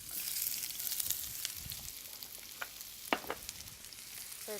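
Shallots frying in a pan as the base for a seafood risotto, a soft steady sizzle with a few scattered sharp clicks and spatula scrapes, heard close and alone without talking.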